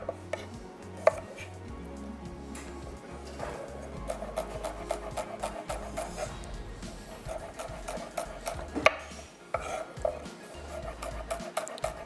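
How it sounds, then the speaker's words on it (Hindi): A small onion sliced with a knife, giving a quick run of close, sharp, irregular chopping taps against a board, with a faint murmur of background noise underneath. "एक छोटी सी प्याज और स्लाइस कर लेते हैं।"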